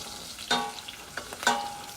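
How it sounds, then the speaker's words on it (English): Food frying in a pan for smoked gouda and swiss mac and cheese, a soft constant sizzle broken by a few scraping stirs and pushes, close and fairly quiet. "just stir it around a bit"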